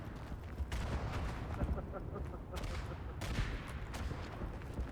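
Artillery and gunfire in the World War I shooter Verdun, a dense rumbling barrage with repeated booms and cracks over steady battlefield noise, with a voice talking over it.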